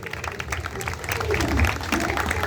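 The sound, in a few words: church congregation clapping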